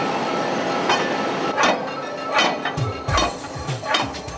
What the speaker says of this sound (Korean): 이음새 원통을 계속 때리자 나사가 겨우 빠져나온다.